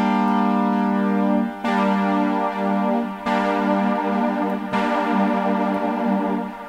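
Trance synth with detuned voices holding a sustained wide chord, bright and buzzy, retriggered roughly every one and a half seconds with slight dips between notes, steady and loud with no talking.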